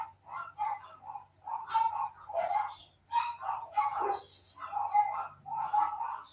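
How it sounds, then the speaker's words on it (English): Several dogs bark in a string of short, sharp woofs and yips, arriving in quick clustered bursts with brief pauses between them, fairly close and with no talk. "I don't know why my dogs are barking"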